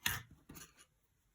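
Two quick scissor snips cutting crochet yarn, crisp and close with a short pause between them, then quiet.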